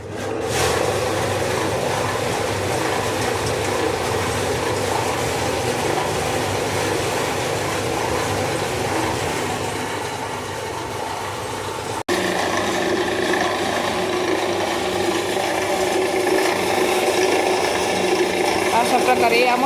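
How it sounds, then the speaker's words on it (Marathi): A large shevai (vermicelli) making machine runs steadily with dough fed in, giving a loud continuous mechanical whir and ratcheting clatter that persists throughout, shifting slightly in tone partway. "आता मशीन मी चालू करते आणि त्याच्यामध्ये पीठ टाकून दाखवते तुम्हाला"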